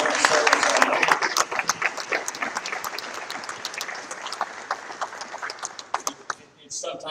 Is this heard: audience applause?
yes